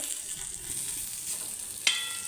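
Semolina-coated fish frying in a little oil over a low gas flame gives a soft, steady hiss with a brief sharper crackle near the end, quiet and without talk.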